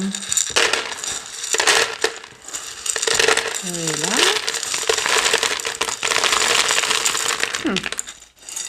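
Clay pebbles clatter and rattle in several bursts as they are poured into a plant pot while repotting a Sansevieria cylindrica, with brief pauses between pours and some faint talking.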